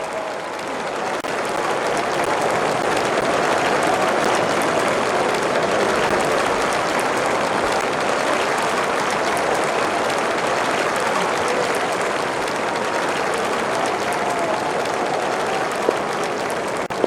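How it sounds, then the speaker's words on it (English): Steady, dense applause and crowd noise fill a cricket stadium in the Don Bradman Cricket video game, holding at a constant loud level throughout as the opening batsmen walk out. "a very good crowd is building up"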